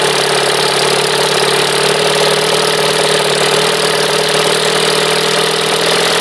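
A 1976 Evinrude 25 hp outboard motor runs steadily, a loud, continuous close-up drone with a rapid rattling pulse and no talking.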